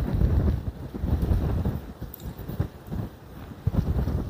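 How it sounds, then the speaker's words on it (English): Strong wind on the coast beside an old working lighthouse buffets the microphone in loud, gusting rumbles, rising and falling continuously with no voices. "when we're on the coast, it is so windy and absolutely freezing"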